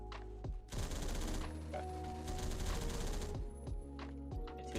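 A Phantom Forces gun fires in a long, loud automatic burst, with a few separate shots at the start and end and a brief spoken word.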